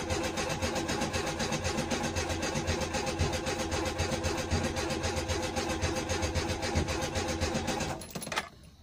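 A car that had not run for over a month cranks on choke with a sticking starter motor, a steady rapid mechanical churning that cuts off abruptly near the end, close and fairly loud, with no talk.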